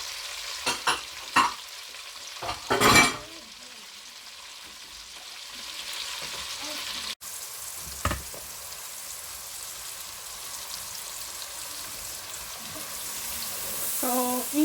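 Onions frying in a pan with shrimp for rice noodles sizzle in a soft, steady hiss, broken early by a few loud stirring clatters and knocks, with a brief clink partway through.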